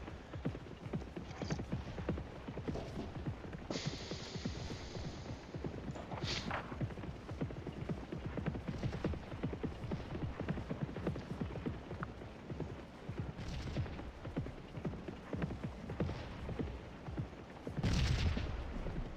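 Hooves from a horse in the Scourge of War cornfield clop in a quick, continuous rhythm, joined by occasional distant gunfire and rattling mechanisms, with no talking.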